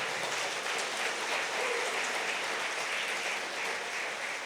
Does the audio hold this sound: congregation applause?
yes